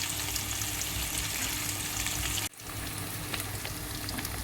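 Eggs sizzling and frying in a pan, a steady close crackle that briefly cuts out and resumes at a slightly lower level.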